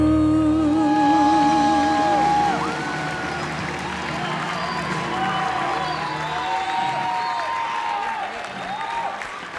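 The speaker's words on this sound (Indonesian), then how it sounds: "Tepuk tangan untuk Ardea" Television audience at a singing contest applauding and cheering after a musical drama performance, with loud sustained clapping and whoops while a voice talks over it; the clapping eases slightly but continues throughout.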